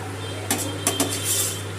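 Metal utensils clink a few times against a pan as soft, syrup-soaked malpua pieces are lifted out, three brief close taps over a steady low hum.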